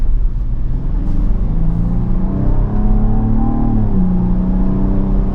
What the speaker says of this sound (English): Even in comfort mode, or the quiet mode for the exhaust, that still sounded really, really good.